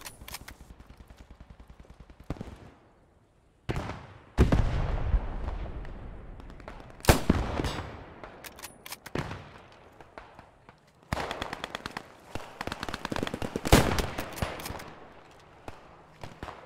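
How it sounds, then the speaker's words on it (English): Gunfire in the Post Scriptum video game during a World War II-style battle at Driel: irregular bursts of rifle and machine-gun shots, some close and loud, others distant, with short quiet gaps between volleys. "there's another shooting at me"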